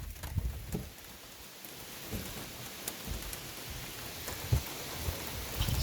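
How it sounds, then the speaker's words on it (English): Steady rain pours down outdoors in a wilderness setting, a continuous hiss of drops with occasional louder patters and splashes close by, no voices over it. "Still pouring rain."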